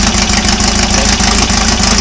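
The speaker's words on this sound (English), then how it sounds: "It's idling at the same speed." A loud, steady engine idle during an engine test, with a throbbing, even pulse and no change in speed throughout.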